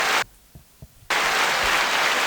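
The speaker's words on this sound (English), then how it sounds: "Crowd went crazy" Loud crowd applause fills the space, breaks off briefly with a few faint knocks, then surges back as a dense wash of clapping.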